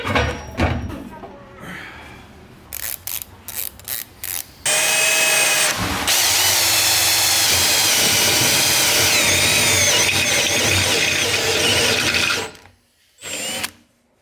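Power drill boring holes into broken farm equipment, loud sustained whine with brief bursts and pauses early on, then one long continuous run before stopping, with a short final burst.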